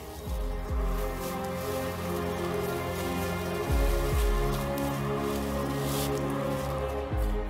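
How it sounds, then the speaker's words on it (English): Rain begins falling outdoors at a camp where a basha shelter is rigged, pattering steadily on the tarp and gear with occasional heavier drips over a low continuous hiss, close and fairly loud, with no voices. "It just started raining."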